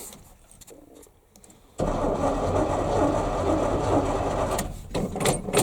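A 1978 GMC one-ton dump truck with a V8 and four-speed cranks over on a cold start. A quiet pause comes first, then a loud, steady starter grind churns close by for several seconds with no voices.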